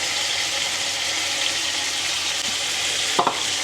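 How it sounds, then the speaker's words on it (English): Onions and peppers fry with turkey in a pot, a close, steady hissing sizzle that runs continuously, with a couple of quick utensil clinks near the end. "And then we're just gonna fry this, stirring continuously, okay?"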